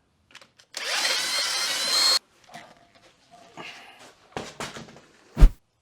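An impact power tool loosening a wheel on a Porsche 911, one loud sustained burst of about a second and a half, followed by quieter clanks and handling noises and a sharp thump.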